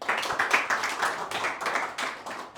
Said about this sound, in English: Please clap for Nitin